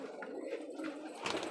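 Pigeons at a loft keeping several breeds, including Malbai, Madras and Andhra flyers, coo and murmur in soft overlapping calls close by, with a brief louder flutter near the end.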